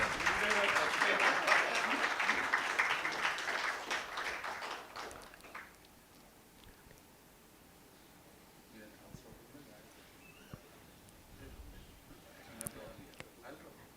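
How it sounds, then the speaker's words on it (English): Audience applause for an honoree at a conference event, loud and full at first, then fading over several seconds into quiet room noise with a few stray sounds later. "Can we have a huge round of applause for sir"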